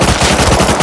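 Rapid AK rifle fire in the video game Rust, a steady full-auto burst of evenly spaced loud shots filling the whole moment with no pauses.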